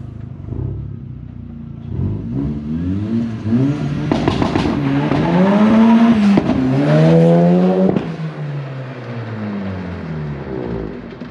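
A turbo-swapped 20V Toyota MR-S revving loudly, its engine note climbing in repeated rising sweeps and then dropping off, heard close with no talk.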